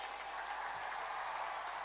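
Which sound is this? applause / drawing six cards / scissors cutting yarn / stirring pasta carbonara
applause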